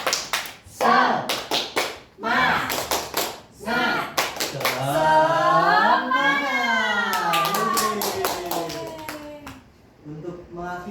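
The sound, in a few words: class clapping the 'tepuk semangat' clap chant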